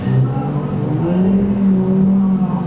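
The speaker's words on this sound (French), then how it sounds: "des moteurs qui sont chauffés par les différents pilotes" Race car engines idle and rev on the grid at the Dijon circuit during the Dijon Motors Cup as drivers warm them up before the start, a steady loud droning rumble with slight pitch swells throughout.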